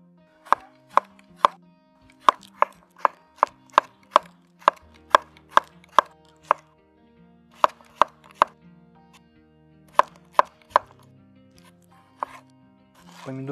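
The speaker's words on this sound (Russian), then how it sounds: "Помидорки сильно мельчить." A knife chops tomatoes for a simple cucumber-and-tomato salad with sour cream, striking a board in quick, sharp, close strokes. The rhythm is steady and even, with a few short pauses between runs of cuts.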